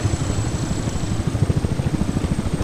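Gazelle helicopter in Battlefield Desert Combat, its rotor throbbing in a steady fast chop under a continuous engine whine, close and moderately loud throughout.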